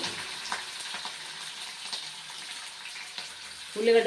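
Green chillies and onions fry in a pan over medium flame for a gonguura curry, a soft steady sizzle with light crackles throughout, ending in a brief louder clatter near the close.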